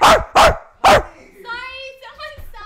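A person imitates a dog bark with three loud, sharp yips in quick succession, likened to a chihuahua, followed by a higher whiny tone and faint background noise.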